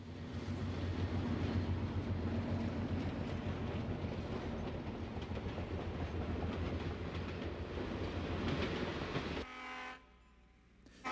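The Wabash Railway's Detroit Limited, nearing Detroit after a night run from St. Louis, rumbles past loudly with steady wheel clatter and a sounding horn, then cuts abruptly to a quieter passage near the end.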